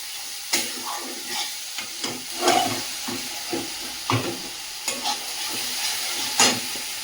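Spices and coriander powder fry and sizzle in a pan of oil for fish curry, with a steady hiss and intermittent scraping stirs and clatters of a spoon at close range.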